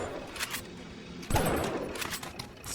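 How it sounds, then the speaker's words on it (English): A shotgun fires at a splicer in BioShock, a few sharp blasts with one heavy close boom midway, amid gunfire and game noise at moderate loudness. "Seriously, 4 shotgun shells at point blank range to kill him."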